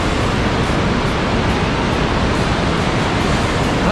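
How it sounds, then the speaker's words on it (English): Glacier meltwater roars through a narrow canyon gorge after rain, a loud, dense and unbroken rushing wash of water close at hand, with no other sounds breaking through. "The water rushing down through the gorge."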